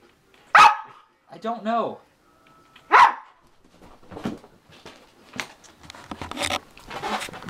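Small dog barking in sharp, separate yips and a drawn-out whining bark, close and loud, with a person talking in between.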